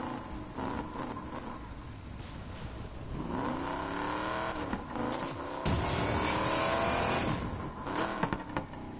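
Car in Need for Speed Payback accelerating hard along an airstrip, the engine note climbing through several gear shifts with rising and falling revs, loud and steady from start to finish.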